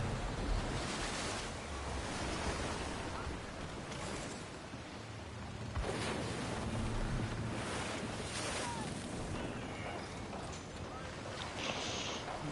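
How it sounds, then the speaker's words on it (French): At sea in the Black Flag pirate video game, wind and ocean waves keep up a continuous rushing wash that swells and eases in broad surges, with no talk over it. "Le vent devient mordant, capitaine."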